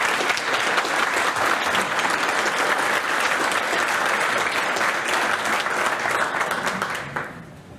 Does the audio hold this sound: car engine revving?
no